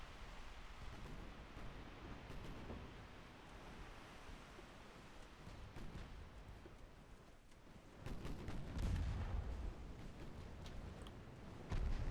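Torpedo strike on an enemy transport ship in Ultimate Admiral: Dreadnoughts, a 1914 naval battle: a steady wash of sea and battle noise suddenly swells into a heavier, deep rumbling burst near the end.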